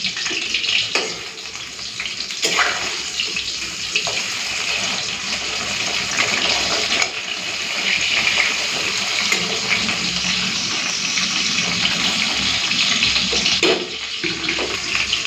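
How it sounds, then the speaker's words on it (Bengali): Flipped fish frying in a pan of oil hisses and spits continuously at close range, a loud, dense sizzle with a few sharper pops scattered through it. "ঠিক ভাজা হয়ে গেছে উল্টে দিচ্ছি"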